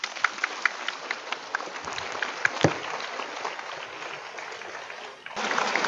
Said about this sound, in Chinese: 再次掌声